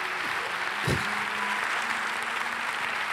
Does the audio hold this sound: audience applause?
yes